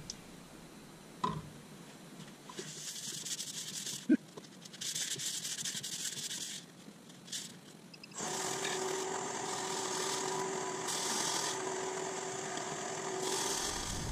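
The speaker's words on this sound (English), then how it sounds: "just going to wipe it down with a bit of alcohol" Cloth and alcohol rubbed over a turned sapele wood plate, giving soft intermittent swishing strokes in bursts, then a steadier continuous rubbing with a faint mechanical hum underneath.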